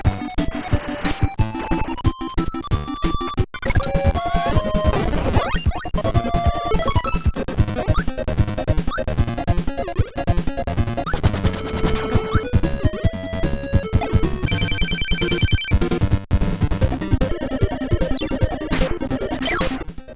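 Dense, high-pitched chiptune bleeps, chirps and zaps from the NES platformer Kirby's Adventure, layered over busy 8-bit music in a constant rapid clatter of cartoony effects.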